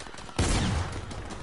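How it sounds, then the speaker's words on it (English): One abrupt, loud gunshot burst goes off in a video game, then a rough noisy tail fades slowly. "Oh, he's shooting at me."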